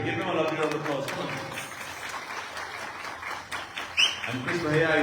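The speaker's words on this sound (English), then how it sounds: "Give him a lovely round of applause" Applause from a temple congregation at a Sanatan Dharma mandir in Houston, Texas, following a birthday song, a steady patter of clapping mixed with voices and some talk, moderately loud throughout.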